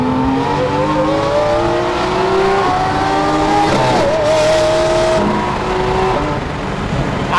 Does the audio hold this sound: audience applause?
no